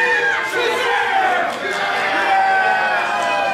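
A wrestling crowd at a CTWE no-disqualification match roars and cheers loudly and continuously, a dense wash of voices and whoops that swells and dips briefly before rising again.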